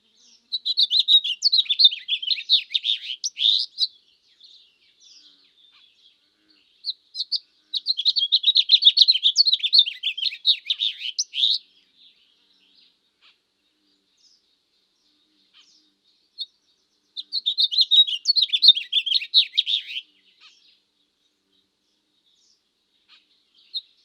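A Baltimore Oriole gives three separate bursts of bright, chattering calls, each lasting a few seconds with quiet gaps in between. The calls are clear and close, and no other sound is heard.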